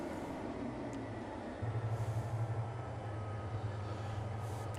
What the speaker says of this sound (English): we can park the train here